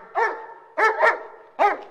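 A police service dog barks in a few loud, close bursts, a single bark followed by a quick double and another single, with quiet pauses between and no talk.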